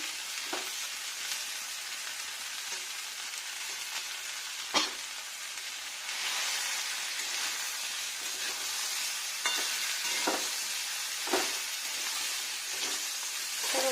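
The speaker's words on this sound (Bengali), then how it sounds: "সুন্দরভাবে ভাজা ভাজা হবে একটু।" Large potato chunks fry in a pan while a spatula stirs them, giving a steady close sizzle broken by a handful of sharp scraping knocks, with no voices.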